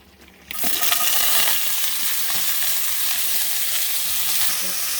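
Chopped onion hits a tablespoon of hot oil for North Indian-style butter chicken, bursting into a loud, steady sizzle after a brief quiet moment, then crackling evenly throughout.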